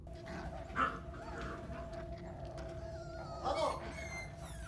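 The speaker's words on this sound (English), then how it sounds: "Sounds like something wrong with this dog already." A dog whimpers and yips a couple of times over a low, constant background hum, quiet and somewhat distant.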